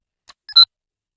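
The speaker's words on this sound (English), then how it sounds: "A little beep." A Power Rangers Ninja Storm Wind Morpher toy switches on with a tiny electronic beep, a faint click followed by two short chirping tones, close and brief in silence.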